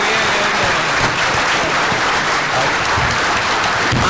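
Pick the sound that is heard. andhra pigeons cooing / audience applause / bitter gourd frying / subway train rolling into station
audience applause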